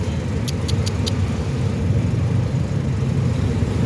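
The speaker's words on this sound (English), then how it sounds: "Sobrang traffic" Dense road traffic on University Road in Karachi, Pakistan, makes a steady, loud wash of engine rumble and tire noise, with a few brief high tones near the start.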